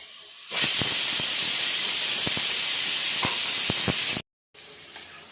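Ready-made frozen finger chips fry in hot oil with a loud, dense sizzle and scattered sharp crackles, cutting out briefly before resuming more quietly.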